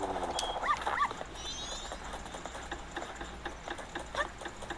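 Short yapping barks from a dog in The Legend of Zelda: Majora's Mask 3D, a cluster of yips near the start and a few more toward the end, set among faint game effects and background tones.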